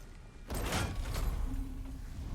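A heavy door mechanism opening in God of War Ragnarök, a sudden grinding mechanical surge with creaking and a low rumble lasting a couple of seconds, close and fairly loud.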